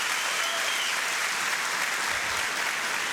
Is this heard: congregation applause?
yes